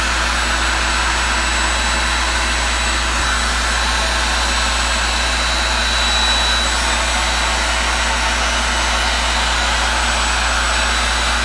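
Steady, loud roaring blast of a heat gun aimed at the surface of a resin table, a continuous broadband airflow hiss that runs unbroken and close for the whole stretch.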